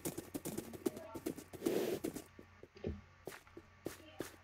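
Horse hooves clip-clop in a rapid, irregular rhythm in a capture-the-flag video game, with a few louder thuds and shuffling steps under a faint voice.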